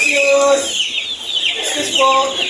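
Several gamefowl chickens cluck and call nearby in overlapping, harmonic bursts at a banding event on a game farm, fairly loud with no talk.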